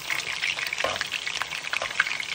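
Meatballs browning in a frying pan give off a steady, close sizzle and crackle with scattered small pops and a brief scrape, continuing without talk.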